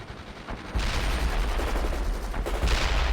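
Machine gun fire in the real-time strategy game World in Conflict: after a brief quieter moment, rapid continuous bursts of automatic gunfire erupt and carry on loudly with overlapping shots.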